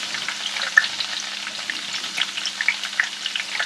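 Steady crackling sizzle of garlic and chilies frying in hot oil, with sharp pops scattered throughout, close and continuous.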